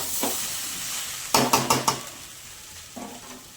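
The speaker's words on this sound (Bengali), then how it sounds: "এবার জল দিয়ে দেবো।" Water poured into a pan of frying rice, potato and spices, setting off a steady sizzle with a few sharp bursts of bubbling and clatter, all close up and without talk.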